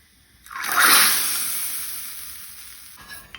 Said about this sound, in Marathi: ही फोडणी आता हांव कडयेन घालता।